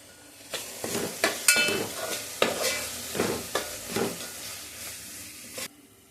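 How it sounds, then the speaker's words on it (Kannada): Onion, tomato and ground masala frying in a pan and being stirred, a sizzling base broken by repeated scraping strokes of the spoon at an uneven rhythm, close and with no voices. "ಇವಾಗ ನೋಡಿ, ಈರುಳ್ಳಿ, ಟೊಮೆಟೊ, ರುಬ್ಬಿರೋ ಮಸಾಲೆ ಎಲ್ಲ ಚೆನ್ನಾಗಿ ಫ್ರೈ ಆಗಿದೆ."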